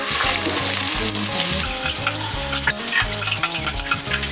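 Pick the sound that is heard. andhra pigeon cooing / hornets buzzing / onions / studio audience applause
onions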